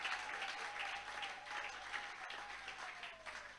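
A church congregation at an evangelical worship service applauds steadily together, a dense, sustained round of clapping that carries on for several seconds with little change in loudness, faint voices mixed in beneath it.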